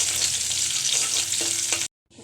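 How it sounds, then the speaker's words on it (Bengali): Onions frying in hot oil, a dense close sizzle for nearly two seconds before cutting off abruptly, then resuming faintly. "পেঁয়াজটা একটু ভেজে নেব"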